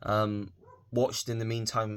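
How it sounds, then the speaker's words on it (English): A dog barks a few times in the background of a room while a person talks in the foreground, the barks partly mixed with the voice. "Sorry if you can hear my dog in the background."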